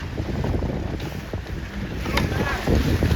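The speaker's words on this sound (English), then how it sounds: "it is windier now" Strong wind roars and buffets the microphone aboard a 29er sailing dinghy during a race, with water rushing along the hull throughout.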